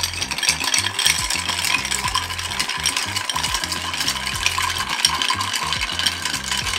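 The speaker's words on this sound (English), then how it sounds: "To break this ice a little bit. Give it a gentle stir." Ice cubes clink and rattle in a glass as a coffee cocktail made with Drambuie is stirred gently, giving a steady, close, rhythmic clatter with no talking.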